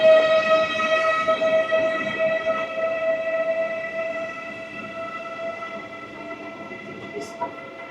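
An ICE 3 series 407 high-speed train heard at a station, a steady tonal whine with sustained harmonic hum holding level, fading slightly toward the end, with a brief higher chirp near the close.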